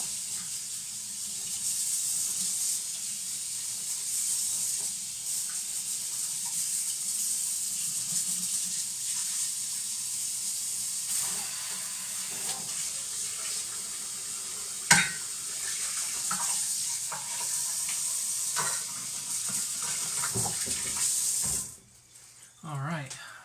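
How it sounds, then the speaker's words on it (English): Sauce for parmesan crusted salmon simmering in a pan, a soft continuous bubbling hiss running steadily throughout, with faint kitchen clatter, a sharp knock midway and cleanup noises near the end. "we're simmering here, we're cooking down there"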